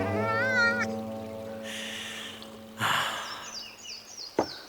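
A cat meows in a long, wavering cry, then gives a short sigh-like breath and a brief snort, all fairly quiet against a still room.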